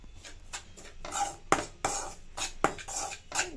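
Flour being roasted in ghee in a pan for a Nag Panchami festival dish, with repeated metal scraping and clinks of a spoon against the pan, some sharp and close, between softer stirring sounds.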